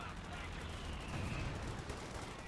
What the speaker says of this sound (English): fragmentation bomb on the anti-tank gun